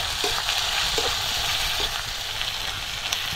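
Tomatoes added to softened onion in a pan for a prawn curry, frying with a constant loud close sizzle and a few faint stirring taps, no voices.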